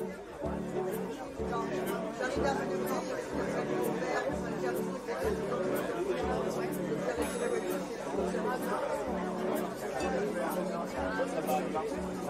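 Steady babble of many voices in a busy crowd, continuous and fairly close, with a regular low thumping underneath throughout.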